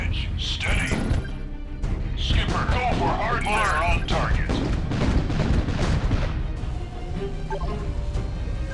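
Artillery and gunfire booms from an Art of War 3 real-time strategy battle, repeated blasts mixed with in-game voice lines and talk throughout.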